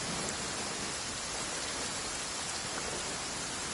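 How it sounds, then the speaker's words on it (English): Heavy rain pours down in a Genshin Impact-style game scene, a dense, steady hiss of falling water that stays constant and loud throughout, with no voices. "Quite a downpour."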